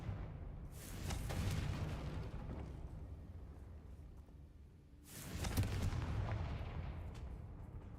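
Two booming blasts from the Confringo fire spell in Hogwarts Legacy, one at about a second in and another near the five-second mark, each a broad burst that rumbles on and trails off.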